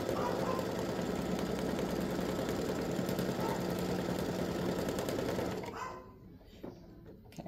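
A home sewing machine runs steadily while stitching fabric Tic Tac Toe game pieces, a continuous close motor whir with needle chatter that stops near the end, leaving a quieter room.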